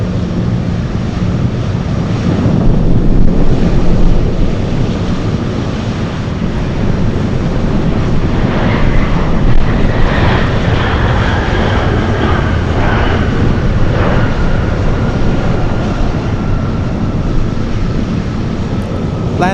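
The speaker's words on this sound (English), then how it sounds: "Alaska, flying in from Seattle. (737-900)." An Alaska Airlines Boeing 737-900 inbound from Seattle lands at Anchorage, its jet engines roaring in a steady, loud wash with wind noise, the whine rising and shifting through the middle of the pass.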